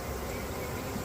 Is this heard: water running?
no